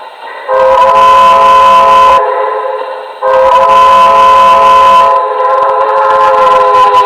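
Two long, loud blasts of a Paragon 2 Hudson model steam locomotive whistle, each a steady chord-like tone, separated by a short pause.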